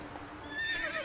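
The horse Roach whinnies in The Witcher 3, a short, faint neigh rising at the end of a brief moment with no talking.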